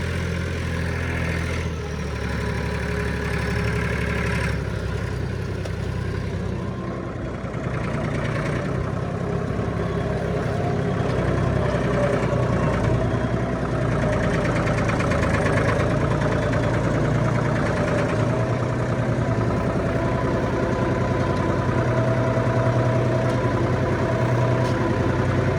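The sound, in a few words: tractor engine idling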